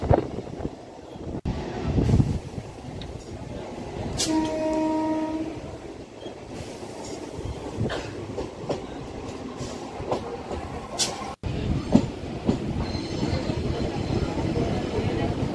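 A Dankuni–Sealdah local train running on the rails in Kolkata, with a steady rumble and rhythmic clickety-clack, a brief horn blast partway through and sharp rail clanks, continuous and close, with someone talking over it.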